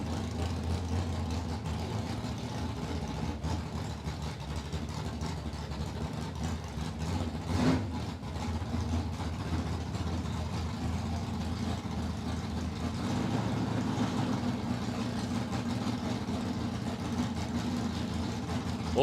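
A supercharged late model drag car idles at a dragway with a deep, steady rumble that holds for the whole stretch, swelling slightly partway through, with crowd and track ambience underneath.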